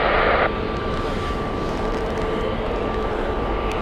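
A TAP airliner departing Heathrow Airport produces a steady, loud broadband jet roar that holds evenly throughout, with a brighter burst of noise in the first half second.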